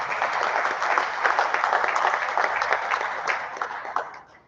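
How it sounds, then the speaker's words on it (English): An audience at a formal event claps in a sustained, even round of applause that holds steady for several seconds before tapering off at the close. "Another round of applause, please."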